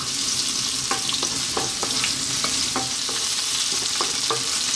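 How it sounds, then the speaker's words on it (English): Onions and garlic fry in oil over medium heat, a steady close sizzle punctuated by sharp scraping clicks of stirring, with no talking. "We're going to start off by dropping in our onions. And our garlic, and we're going to go on a medium heat"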